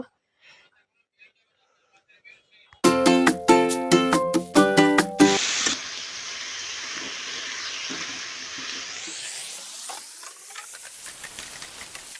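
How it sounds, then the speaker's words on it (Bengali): An egg fries in a pan with a rising steamy hiss and sizzle that builds and stays up close. It follows a short, loud, rhythmic burst of tonal music after near silence. "এবার ডিমটা ভালো করে ভেজে নিই"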